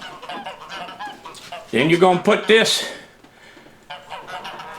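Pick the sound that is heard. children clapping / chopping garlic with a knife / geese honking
geese honking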